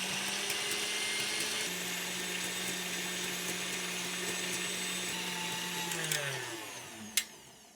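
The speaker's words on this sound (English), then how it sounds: "I've got a stand mixer. I might as well use it." A stand mixer whips an ice pudding mixture with a steady, loud motor whine that runs continuously and then winds down near the end, followed by a short clank.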